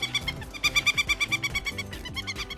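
A falcon gives a quick series of sharp, repeated calls in an even, pulsing rhythm, loud and close, over a low rhythmic backing.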